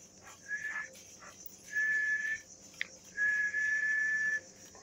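A person whistles to call a dog, giving three clear, level whistled notes. The first is short, the next two are longer and louder, separated by brief pauses, with no talking.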